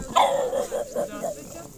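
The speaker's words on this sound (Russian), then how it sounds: "Ой, вот она, собака здесь." A dog at an evening campfire gathering barks and yips in a short run of close, loud calls, with people talking around it.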